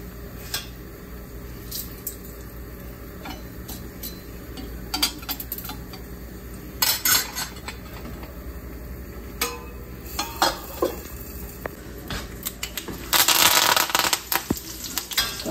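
Chopped onions and mustard seeds cooking in a pan, with a ladle scraping and clinking against the metal in irregular bursts over a steady low sizzle, close and fairly loud, with a busier flurry of stirring near the end.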